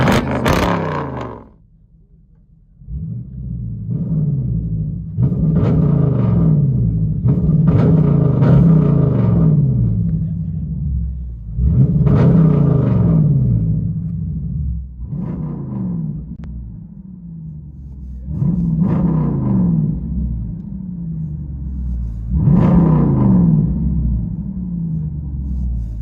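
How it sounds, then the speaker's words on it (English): A 2021 Dodge Durango with a HEMI V8 and true dual straight pipe exhaust idles with a deep, loud rumble, swelling in repeated revs and blips every few seconds before settling back to idle. "Look at that idle. It sounds so good."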